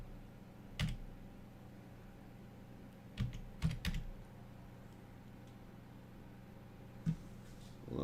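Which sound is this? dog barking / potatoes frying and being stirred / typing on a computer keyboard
typing on a computer keyboard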